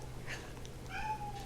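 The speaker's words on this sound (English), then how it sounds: "That's my cat." A pet cat gives a single short meow close by, quiet over a low steady room hum.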